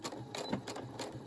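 A Brother SE600 sewing machine stitches fabric for a sailor hair bow, making a quiet, rhythmic run of rapid needle clatter in short bursts, close by with no talking.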